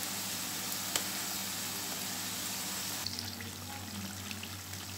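Onions frying in a pan for biryani give off a steady, soft sizzle, close and continuous, with a faint click partway through.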